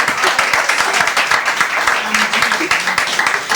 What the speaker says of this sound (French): Cher public, applaudissez pour le vestimentaire de cette chanson.